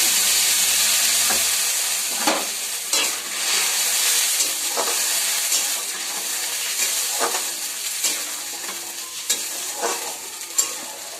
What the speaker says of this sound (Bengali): আগে থেকে বেটে রাখা টমেটো, আদা, কাঁচা লঙ্কা পেস্টটাতে দিয়ে দেবো।